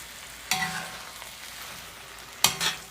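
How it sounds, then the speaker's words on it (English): Sliced portobello mushrooms stir-frying in a large Lodge cast iron wok, with a steady sizzle broken by two sharp metallic scrapes of the spatula a couple of seconds apart, close and fairly loud. "this is why I love doing this stir fry in a large cast iron wok"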